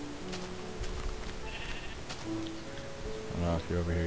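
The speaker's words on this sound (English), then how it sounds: "I'm killing sheep right now." Blocky sheep bleating in Minecraft, several short wavering bleats overlapping near the end, over a steady game background hum with someone talking throughout.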